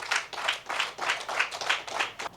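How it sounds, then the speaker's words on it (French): Audience applause for two honoured guests, living human treasures of the Fon community, at a public gathering: a steady run of rhythmic clapping with about seven pulses, loud and fairly close, with no voices. "Je vous prie de les applaudir."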